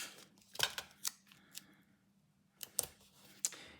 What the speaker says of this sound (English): I'm going to get just some regular tape for right now and tape that in place